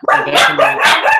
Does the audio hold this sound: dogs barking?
yes